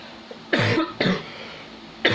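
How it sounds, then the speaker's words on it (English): Three dry, forceful coughs from one person indoors, spaced apart with quiet pauses between them, close to the microphone. "let me cough first."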